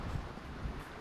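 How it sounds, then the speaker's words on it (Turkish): Strong wind blows at a seaside campsite in Karaburun, a steady low rushing and buffeting across the microphone, fairly faint with no talk. "Çok rüzgar var ama ya."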